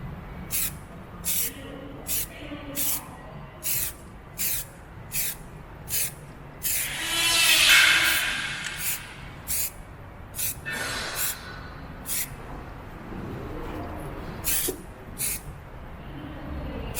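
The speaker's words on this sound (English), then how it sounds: "spray painting is always the fun part" Spray painting a car bumper in a repair job: short, regular bursts of aerosol hiss repeat about every second, broken by a longer, louder spray at mid-clip, close and steady with no speech.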